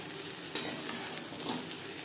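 Prawns frying in oil in a pan make a dense, continuous crackling sizzle up close, broken by brief scraping stirs and a sharper burst partway through.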